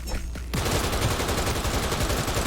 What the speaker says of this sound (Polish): O, też do mnie strzela.